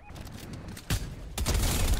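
Gunfire in Fortnite comes as two loud bursts of rapid shots, the second sustained to the end, over a low game background.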